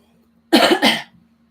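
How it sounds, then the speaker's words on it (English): A person coughs twice in quick succession right into a microphone. The coughs are loud and close, over a faint steady hum. "I don't know how to mute my mic in order to not have you guys hear me cough"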